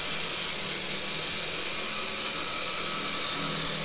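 A power saw cuts wood for a nail-free joint, whining steadily and loudly with a harsh, continuous buzzing cut and no pauses.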